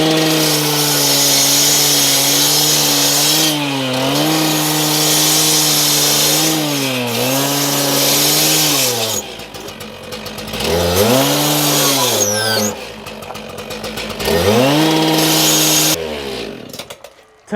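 A power saw cuts score lines into the mortar of a bluestone step, a loud continuous whine that dips and rises as the blade bites, cutting out briefly between passes before starting again.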